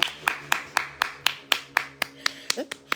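About a dozen distinct hand claps land in a steady, fairly quick rhythm, close by and crisp, over a faint hum, with a brief vocal sound slipping in near the end during a live product promotion.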